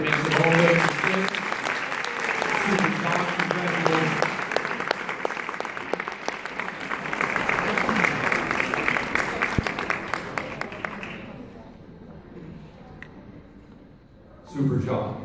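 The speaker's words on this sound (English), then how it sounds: "We always applaud until the recipient makes it all the way." An audience applauds a middle school advanced orchestra at a 2015 music festival: a sustained, dense round of clapping that runs about eleven seconds before thinning out, then a short burst returns near the end.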